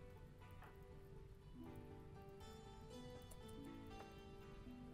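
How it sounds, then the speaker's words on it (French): Rain falling in the colony game RimWorld, a steady even patter of drops holding throughout, quiet, over sustained tonal music. "Ouf, il pleut."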